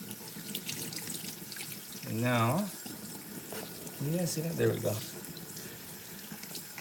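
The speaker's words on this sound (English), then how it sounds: "Now we're gonna rinse the rest of his body here. Work the water in." Running water from a sprayer rinses a Yorkie in a bath, a steady hiss and splash under a voice.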